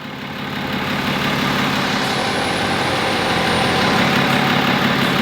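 Air suspension compressor on a lowered Ram truck, a loud steady droning hum running close and continuous without pause, with no talk.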